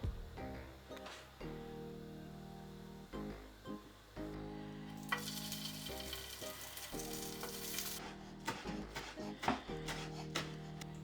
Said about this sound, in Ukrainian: обсмажуємо бекон та булочки до золотистої скорінки